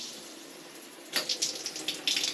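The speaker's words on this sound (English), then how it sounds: "And that is the hand shower." Water runs from a hand shower on a shower tower system, giving a steady close hiss of spray that changes as the flow is adjusted, with splashy bursts toward the end and no talking.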